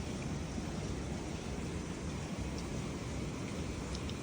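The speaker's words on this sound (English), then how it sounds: "It's still hailing." Hail pelting down during a heavy storm with flooding, a dense, steady roar of hard impacts filling the whole clip at an even, loud level with no pauses.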